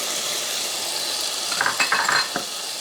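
Garlic, ginger and carrots hit a hot pan, giving a steady broadband sizzle with a burst of sharper crackling and stirring scrapes toward the end, close and alone.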